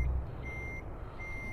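Reversing beeper on a truck in Euro Truck Simulator 2, steady repeating electronic tones over a low engine rumble, close and clear, no talking.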